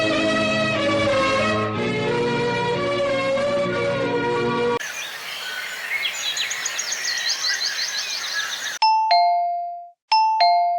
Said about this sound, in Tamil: காலிங் பெல் அடிக்குது, யாருன்னு வந்து பாருமா.